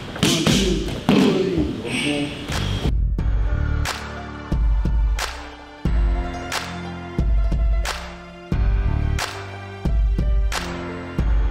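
Muay Thai strikes land on held Thai pads in a left hook and right knee drill, delivered as a series of loud, close, heavy thuds at a steady rhythm of about one every second.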